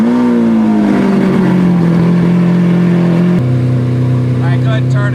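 A Lamborghini engine starts and runs steadily, a loud idling drone with a slight pitch drop that settles into a lower idle partway through, while people talk nearby.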